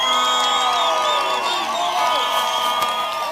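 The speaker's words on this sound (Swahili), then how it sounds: "Tupigieni Rais Uhuru makofi." A large crowd roars and cheers for President Uhuru Kenyatta at an outdoor political rally in Kieni, Nyeri, a dense, steady wall of voices that holds loud and unbroken throughout.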